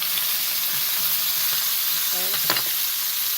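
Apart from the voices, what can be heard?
garlic sizzling in a hot pan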